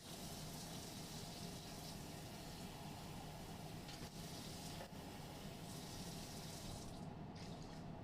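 Tap water runs steadily into a pot for boiling a pound of pasta, a continuous loud splashing rush that lasts the whole stretch with no voices.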